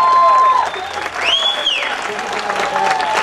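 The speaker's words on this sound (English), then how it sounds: "Give him a great big round of applause, huh?" A crowd applauds and cheers loudly and continuously, with a few whistles rising above the clapping.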